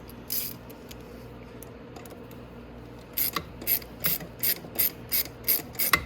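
A ratchet tightens the sprocket bolts on a Venom Grizzly, first with a few scattered clicks and then a steady rhythm of about nine close, distinct ratcheting bursts.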